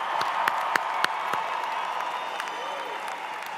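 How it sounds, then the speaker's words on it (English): A crowd applauds and cheers the graduating class of 2023 at an outdoor campus ceremony, a steady wash of clapping with a few sharp claps standing out, heard at some distance. "Let's have a huge round of applause for this amazing group of graduates"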